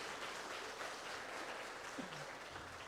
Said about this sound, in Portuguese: Aplauda o Senhor pela vida dela